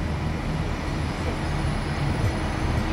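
A Class 331 electric train rumbles steadily along the tracks at Carlisle Station, a dense, continuous roar of wheels and motors heard up close without voices.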